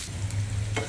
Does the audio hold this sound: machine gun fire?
no